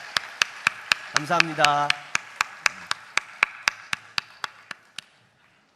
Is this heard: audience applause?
yes